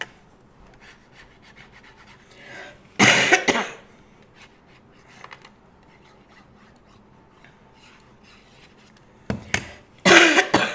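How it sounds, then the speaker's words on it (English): Two loud bursts of coughing, one early and one near the end, separated by quiet stretches with faint rustling. "Don't mean to cough in your ears here."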